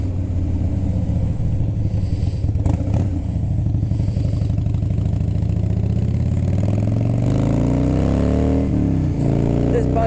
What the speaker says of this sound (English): This bike again is powered by a twin cam 88 cubic inch motor.